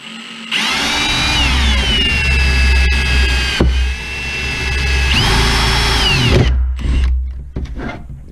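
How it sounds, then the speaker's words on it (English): An electric drill whirs loudly up close in two long runs while fitting parts to a Bruder D11 model bulldozer, its pitch shifting as it bites, with brief pauses and clunks between. "Now it's probably really noisy with that drill right by there."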